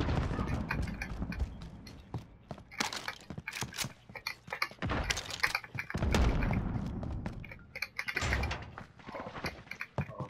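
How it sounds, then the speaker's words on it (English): Call of Duty Modern Warfare gunfire comes as sharp, scattered shots and short bursts, with thuds and mechanical clatter in between, moderately loud over steady game ambience. "I hear shots."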